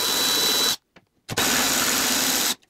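A power tool removing two 10 millimeter airbox bolts on a BMW N43 engine, heard as two loud, close, steady whirring bursts separated by a short pause.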